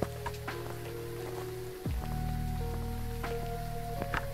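Steady rain in the game Phasmophobia, a continuous hiss of falling drops running throughout, with a low game tone sweeping down midway and a few faint clicks on top.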